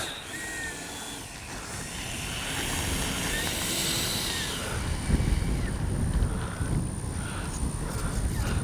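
A Freewing 70 mm Yak-130 RC model jet motor whines steadily with a high sustained tone, growing louder midway, with a wind-buffeted rumble underneath.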